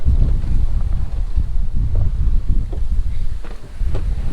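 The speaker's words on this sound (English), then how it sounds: "The waves have been quite blustery, today, and we've got a reef in both the main and Genoa." Sailboat with reefed main and genoa pitching through blustery waves of about two meters on an open-ocean passage from the Canaries to Cape Verde, a loud continuous rush of wind buffeting the microphone and water washing against the hull.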